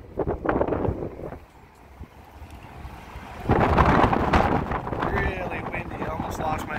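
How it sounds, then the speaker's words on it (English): Strong gusts on the Las Vegas Strip buffet the microphone with low, roaring rushes that rise and fall, growing heavier in the second half. "Really windy, I almost lost my hat just now."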